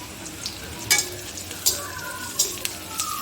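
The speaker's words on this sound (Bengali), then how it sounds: "কড়াইতে তেল দিয়ে কালি জিরা ফোড়নে দিয়ে দিলাম" Chopped onions and nigella seeds fry in hot oil in a wok, giving a steady sizzle broken by several sharp spatter bursts and the clatter of stirring, with no voices.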